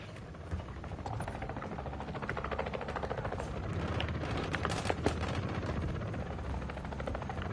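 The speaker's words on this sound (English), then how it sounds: "Friendly chopper gunner servicing targets." Video-game chopper gunner killstreak firing on targets: a helicopter's rotor drone underlies dense bursts of rapid gunfire and explosions, loud and sustained throughout.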